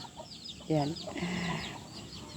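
Backyard chickens cluck in short bursts at close range, with a quiet voice speaking briefly among them.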